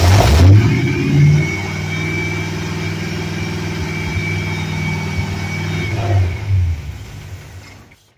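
A V8-swapped Chevy Astro with a five-speed, freshly timed, revs up loudly and close with a throaty rumble, holds a steady high rev for several seconds, then drops back toward idle.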